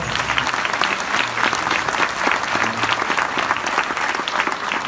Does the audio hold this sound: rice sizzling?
no